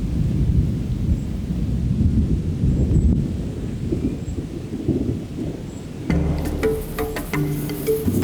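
Deep, rolling thunder over the African savanna rumbles continuously amid a wash of rain-like noise, heavy and low, before brighter tonal sounds enter near the end.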